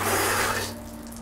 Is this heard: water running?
yes